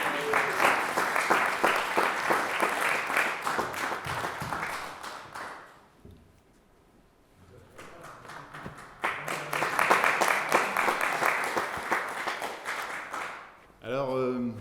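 Live audience at a performance event claps in two sustained bursts separated by a short lull, dense and fairly close, with a voice briefly heard at the end.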